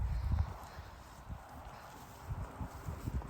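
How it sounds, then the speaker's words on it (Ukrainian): Horses in a paddock holding about twenty-two horses, including pregnant mares, move around with irregular, dull hoof thuds on the ground, some close and some softer, over a low outdoor background. "Тут тут багато коней, 22 штуки."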